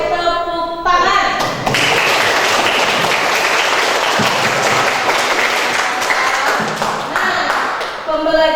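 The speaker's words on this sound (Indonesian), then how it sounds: "Kalau misalkan menurut kalian seru, kalian boleh tepuk tangan." Schoolchildren in a classroom clap together after a physics lesson on kinetic energy, a dense burst of applause lasting several seconds before trailing off, with a teacher's voice briefly heard at the start and end.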